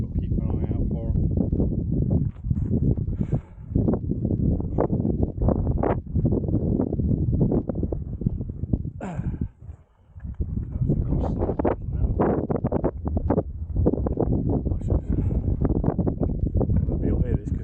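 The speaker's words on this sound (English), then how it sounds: "You'll hear this because it's gone so windy." Strong wind on open moorland on Dartmoor buffets the microphone in heavy, continuous low rumbling gusts, briefly easing once before roaring on again.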